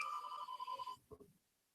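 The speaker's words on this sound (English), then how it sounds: "That's my cell phone." A cell phone ringtone plays a bright, repeating electronic melody for about a second, then cuts off abruptly, followed by faint rustling and a low thump.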